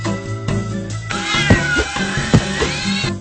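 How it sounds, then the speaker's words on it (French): Alley cats meow and caterwaul in long, wavering drawn-out cries, two or three close, loud calls in a row over a faint background hum, with no speech. "Les chats de gouttière ont repris le contrôle des rues."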